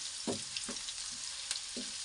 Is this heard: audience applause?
no